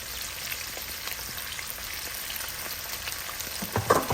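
Ginger garlic paste sizzles in hot oil with onion, green chili and shrimp, a steady soft frying hiss with faint crackles throughout and a small stir-like bump near the end.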